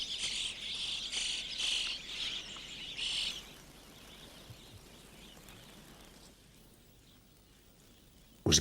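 Grasshoppers in the dry Karoo make dense, shrill pulsing chirps that come in bursts over the first few seconds, then give way to a faint, quieter insect hiss outdoors.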